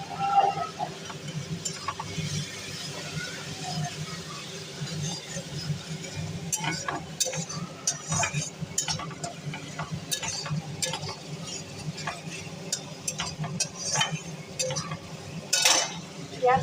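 Masala of ginger, chilli powder and tomato paste being stirred and fried in a pan for a katla fish curry with cauliflower, with close scraping and clinks of a spoon over a light sizzle, amid faint background voices.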